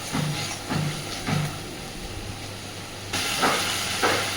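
Spice paste sizzling in hot oil while being sautéed for a koi fish curry, a steady close hiss with a few soft stirring knocks, growing slightly louder toward the end.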